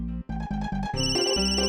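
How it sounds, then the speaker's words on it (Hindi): A phone ringtone plays a quick electronic melody of short repeated tones, loud and clear with no voices. "तुम्हारी मॉम का फोन।"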